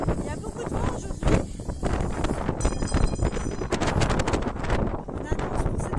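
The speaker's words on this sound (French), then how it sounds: "Il y a beaucoup de vent aujourd'hui." Strong sea wind at Ostend buffets and roars across the microphone in uneven gusts, loud and close, with a voice faintly mixed in.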